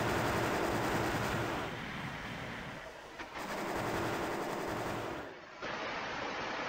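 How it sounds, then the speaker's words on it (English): Rocket barrage slamming into a building in Armored Core, a dense, continuous roar of rapid blasts and rumbling impacts that dips briefly midway, then returns at full loudness. "those rockets hit the building"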